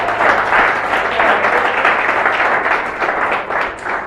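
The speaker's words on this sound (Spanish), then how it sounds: "Dale un aplauso a Dios." Church congregation applauding together during a sermon, a steady wash of clapping that holds loud and even for the whole stretch with no talk over it.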